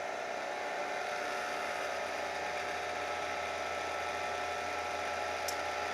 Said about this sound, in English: we're going to monitor how much power we're using to just spin the motor in an unloaded condition with our motor controller